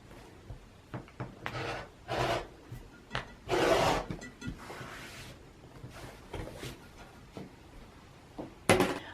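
Quilted fabric for a patchwork tote bag is trimmed straight along a ruler's edge: quiet, close, intermittent scraping and rasping strokes of varying length, with brief gaps between cuts.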